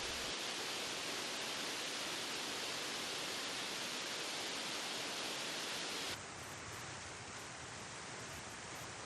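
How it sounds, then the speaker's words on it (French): Raging rivers and torrents in full flood during Cyclone Dina on Réunion, a loud, unbroken roar of rushing water that stays constant throughout, dropping slightly in level near the end. "partout, les rivières et les torrents se déchaînent"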